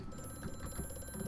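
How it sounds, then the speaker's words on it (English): Telephone ringing in the horror video game Amnesia: A Machine for Pigs, a faint old-style bell ring with a few quick repeated trills over a low ambient drone, heard briefly and alone. "why is there a phone here?"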